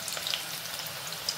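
Chopped onion spits and crackles in hot oil, a bright, steady close sizzle with a few faint pops.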